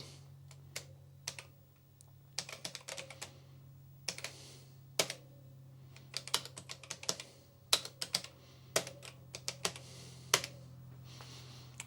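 Typing on the keyboard of an Amstrad CPC6128 home computer: irregular bursts of crisp key clicks, close and clear, over a steady low hum, with no talking.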